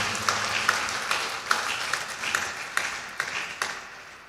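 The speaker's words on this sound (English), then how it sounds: "I want you to join me to congratulate him with another round of applause" A round of applause at a university inaugural lecture congratulating a professor, fairly faint and distant clapping with a few sharper claps standing out over several seconds.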